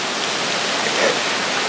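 Steady broadband rush of wind moving through trees around a deer stand in a Georgia woodland during gun hunting season, continuous and even with no voices.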